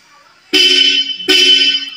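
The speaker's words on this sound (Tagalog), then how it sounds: "Testingin ko naman yung busina." Two loud car horn blasts from a Toyota Fortuner fitted with a Bosch horn, close by: a long honk, a brief gap, then a second honk of similar length.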